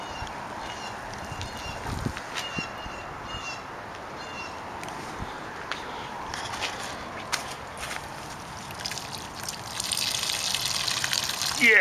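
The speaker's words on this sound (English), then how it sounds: "That is some warm water coming out of there." Warm water gushes steadily from a home-brewing setup on an all-grain brew day, a continuous rushing flow with scattered clunks and knocks, swelling louder near the end.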